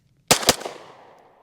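A Staccato HD P4 pistol loaded with hollow point rounds fires two sharp, loud shots in quick succession, followed by a short echoing decay.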